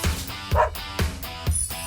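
Cartoonish puppies barking and yipping in the Barbie Groom and Glam Pups video game, four short yaps spaced about half a second apart over a soft background bed.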